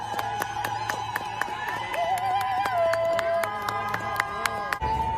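A crowd cheering and clapping as protesters are released after a roadway protest, heard as a news clip: loud sustained whoops and applause with sharp claps and shouts, a siren-like tone rising briefly through the middle.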